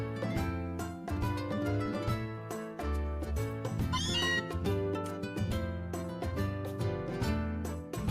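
Cartoonish cat meows ring out over busy Pokémon Ultra Moon game music, a few short mews mixed into the upbeat tune.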